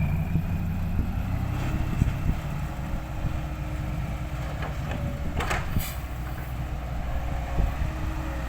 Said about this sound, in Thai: โอ้รถไฟนอกรางมาแล้วครับ